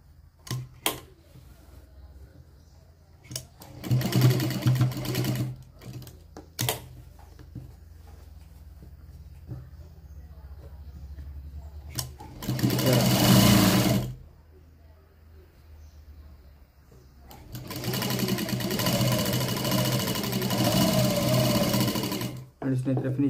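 Sewing machine stitching a lined blouse, running in three loud bursts of steady whirring stitches separated by quieter pauses with handling sounds and some talk.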